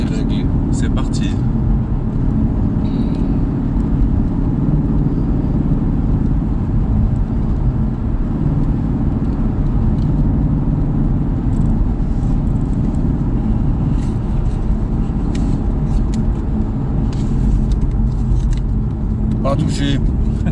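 A car on a road driving course accelerates hard as the automatic gearbox kicks down a gear, producing a loud, continuous engine roar throughout with people talking over it.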